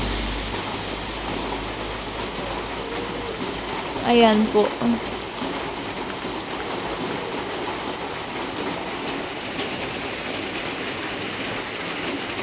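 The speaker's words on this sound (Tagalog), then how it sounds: "bumuhos na po ang ulan" Steady heavy rain hisses throughout, with a brief spoken phrase partway through over the constant downpour.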